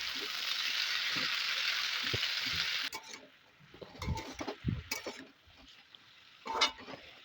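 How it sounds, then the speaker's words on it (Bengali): Bottle gourd greens and potatoes with lentil dumplings frying in a pan: a steady loud sizzle for a few seconds, then scattered close scrapes and clinks of a spatula stirring. "ভালোভাবে একটু নেড়ে চেড়ে মিশিয়ে নেব।"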